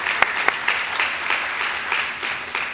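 Seated audience at a community fund meeting gives a round of applause, moderate clapping with a few sharp individual claps standing out, steady and fairly close for a few seconds.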